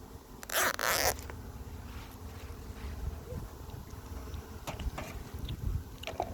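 A zipper is pulled once in a quick rasping burst, followed by quieter rustling and a few small clicks.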